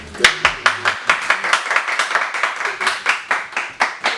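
A small group claps to welcome a guest onto a medical discussion show, each clap sharp and distinct in a quick regular rhythm, with a brief low thump at the start.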